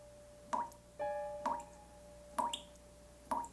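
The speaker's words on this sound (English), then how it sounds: "A loud drip, considering there's no water coming out the fucking tap." Water drip from a tap in the horror film Drainiac: four loud, sharp drips spaced about a second apart, each ringing briefly, with a faint tonal hum lingering between them and no talk.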